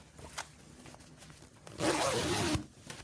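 A zipper on a small serged zipper bag is pulled in one quick, close, scratchy run of about a second, following some faint handling rustles, with no talking.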